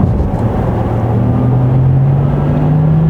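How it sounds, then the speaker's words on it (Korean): Porsche Taycan 4S electric car with its artificial sport sound switched on while driving in normal mode, a steady synthetic drone that rises slowly in pitch over road rumble, loud and continuous with no talk. "다시 제가 잠깐 또 좀 이 스포츠 사운드를 좀 켜볼게요"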